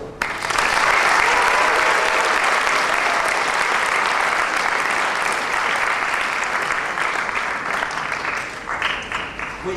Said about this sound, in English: let's put them at ease with a really loud round of applause